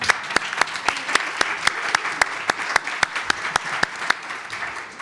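Audience applause for Juan Díaz at a data-protection forum session, a steady wash of clapping with a few sharp, regularly spaced claps standing out near the microphone, continuing without pause and with no talk over it.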